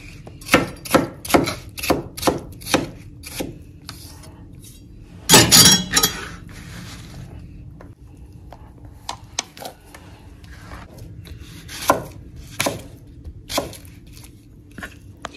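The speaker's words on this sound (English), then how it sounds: "go ahead and cut our plantain into little pieces and add it to our potatoes" A knife chops plantain into small pieces on a board, with a quick run of sharp taps, a louder clatter in the middle, then scattered slower cuts against a quiet kitchen background.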